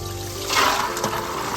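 Water splashes and trickles as soaking water is drained off green peas, with a brief louder gush midway, close and fairly soft.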